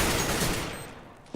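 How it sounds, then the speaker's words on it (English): Gunfire during a competitive Counter-Strike match, a dense burst of shots that trails off, then one sharp crack near the end. "A shot coming out from Dick My Sick."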